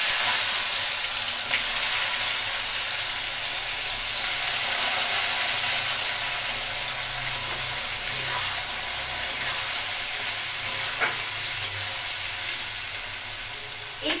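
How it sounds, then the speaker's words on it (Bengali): Chopped onions fry in hot oil with spices, giving a loud, steady, close sizzle with faint crackles throughout and no talking. "এই পেঁয়াজ কুচিগুলো আমি ভালো করে লাল বা ব্রাউনিশ করে ভেজে নেব।"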